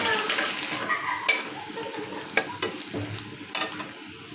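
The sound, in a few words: chopped garlic and dried chillies sizzling in oil for dal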